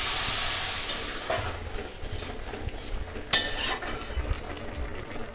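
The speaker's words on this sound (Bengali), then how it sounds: "এই পর্যায়ে আমি আলু আর পটলটা অ্যাড করে দিয়ে দেবো।" Potatoes and pointed gourd go into a pan of spiced fish curry, giving a soft sizzle and frying hiss with scattered clinks of a utensil against the pan and one sharper clatter midway, with no talking.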